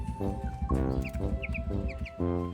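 Bantam chickens cluck in a steady, close, chattering rhythm while feeding, with bursts of calls over a few seconds and no talk.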